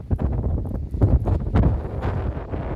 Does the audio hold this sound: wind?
yes